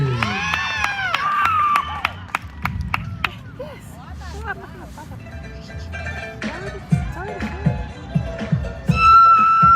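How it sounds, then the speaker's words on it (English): Outdoor crowd at a Samoan Flag Day celebration in Utah cheering and shouting, with children's high voices and scattered whoops rising over a continuous babble; the noise swells near the end. "Please, everybody, show your applause with a big cheer."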